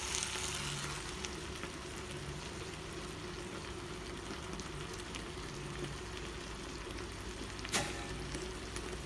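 Crushed tomatoes frying in a pan for shakshuka give a steady, even sizzle throughout, with a brief sharper crackle near the end.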